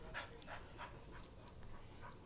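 A dog pants hard at close range, a quick rhythm of soft breathy puffs repeating steadily throughout and fairly faint.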